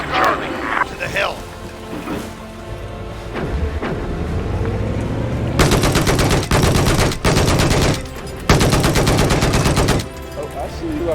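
Bursts of heavy automatic machine gun fire ring out in a Battlefield 4 match, loud rapid volleys starting mid-clip with short pauses between them, and players talk over the action.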